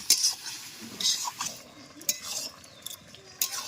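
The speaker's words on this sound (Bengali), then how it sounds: "ভাবলাম আগে আগে চিকেনটা একটু কষি নিই" Chicken is stirred and sautéed in a pan before bottle gourd is added, with a spoon scraping and clinking against the metal in irregular bursts over a low sizzle, close by.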